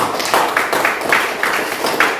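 A classroom of students clapping for a classmate, a dense patter of many hands close by with a few rhythmic surges, filling the room for a couple of seconds.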